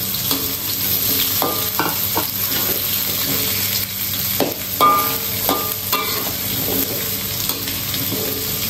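Onions frying and being stirred in a pan for a Sarawak-style gulai, a steady sizzle with scattered scraping spoon strokes close by, no voices.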